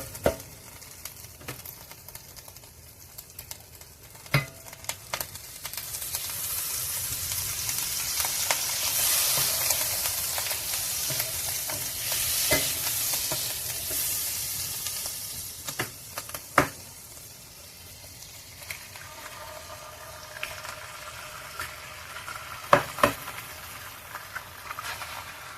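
Eggs frying in a pan pushed beside warming corned beef hash, a steady crackling sizzle that swells in the middle, punctuated by occasional sharp utensil clicks and taps.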